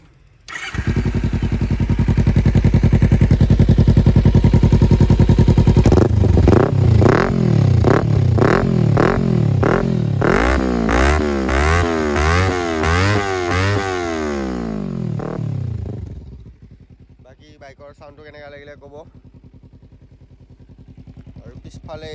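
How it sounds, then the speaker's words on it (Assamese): A Kawasaki Ninja 300 motorcycle engine runs loud and close in neutral, then revs up and down in a series of quick throttle blips before settling back to a steady idle. "বাইকটো নিউট্ৰেলত কৰোঁ, অলপকৈ চাউণ্ডটো শুনাই দিওঁ বাইকৰ কেনেকুৱা"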